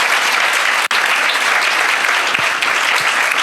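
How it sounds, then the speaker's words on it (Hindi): Loud, sustained applause from a church congregation during a Christian sermon, a dense, steady roar of many hands with a brief cut partway through. "जोरदार तालियां।"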